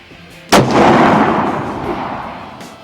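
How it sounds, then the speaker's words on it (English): A single loud rifle shot from a .300 fitted with a new scope rings out outdoors on a hunting trip, a sharp crack followed by a long rolling echo that fades slowly. "I hadn't shot this 300 since I got this new scope on, so let's see what she'll do."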